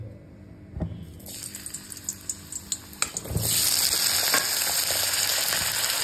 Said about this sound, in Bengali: আর শাক পোস্ত যে আলু তেল দিয়েছি, সর্ষের তেল। এবার আলুগুলোকে দিয়ে দেবো।